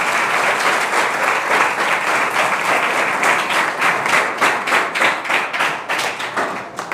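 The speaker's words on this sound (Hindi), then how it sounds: "गुरुदेव जी पधार रहे हैं, आप सब ताली बजा करके स्वागत करेंगे।" Dense applause from a large audience welcoming a guru at a yoga and de-addiction awareness gathering, steady loud clapping with rhythmic surges running for several seconds with no talk.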